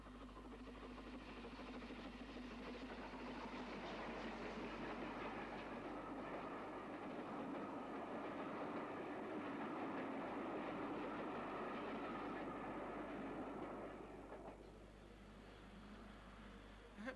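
A steam locomotive, Britannia class 70020 Mercury, hauling a special train passes at moderate distance on the East Coast Main Line, a continuous rolling roar with faint rhythmic clatter that swells and then fades slightly toward the end.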